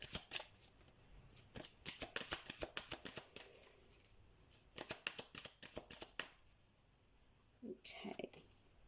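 Oracle cards shuffled for a tarot reading, a quick run of crisp riffling flutters in bursts close to the mic, pausing briefly before a second flurry, with a soft voice murmuring at the end.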